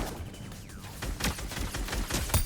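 SCAR rifle fire in a video game, a rapid string of sharp, fairly close shots in quick succession over a short burst, with no voices.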